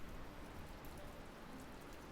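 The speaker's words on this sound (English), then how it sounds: "Pouring with rain still." Pouring rain falls steadily as a dense, even hiss with no pauses, heard on a mountain road and footpath climb.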